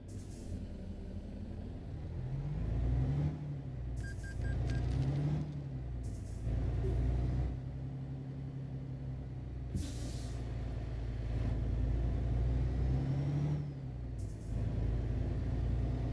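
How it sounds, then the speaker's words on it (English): A heavy truck engine drones steadily in Euro Truck Simulator 2 while driving, with low rumbling revs rising and falling and a few short hissing air-brake bursts; no talking. "I am liking the sound of this truck, though"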